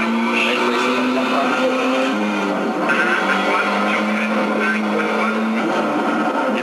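Rally car engine in Colin McRae Rally, a loud buzzing whine that climbs in pitch and drops at gear shifts as it accelerates, heard steady and close throughout.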